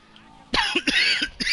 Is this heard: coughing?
yes